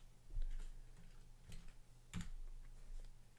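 Computer keyboard typing in short bursts, a few soft key clicks spaced across a few seconds against a faint steady hum, no voices.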